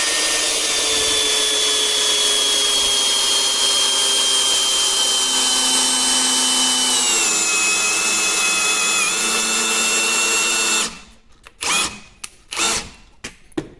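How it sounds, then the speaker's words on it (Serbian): A Parkside Performance PABSP 20 Li C2 cordless drill runs in first gear with a loud, steady motor whine that holds for about eleven seconds, then cuts off, followed by a few short spurts. "prvo da vidimo kako on zavija u prvoj brzini"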